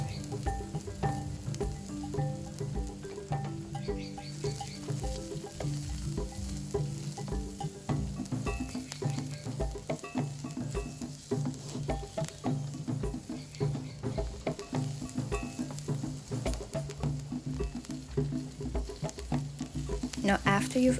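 Onions and hot pepper fry in a pan, a long sizzle with repeated stirring scrapes and light clatter, under faint background music or hum.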